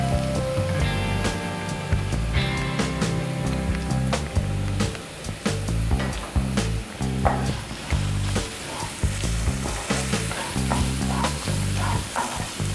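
Two medium onions sauté in hot oil, a steady sizzle running under loud background music, with occasional stirring scrapes across the pan.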